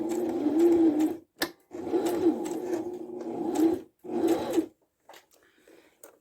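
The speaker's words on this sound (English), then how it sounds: "And I'm going to do my back stitch." A sewing machine runs in several bursts while back-stitching a fabric phone pillow, a steady close whirring hum with short pauses between runs and a few faint clicks as it stops.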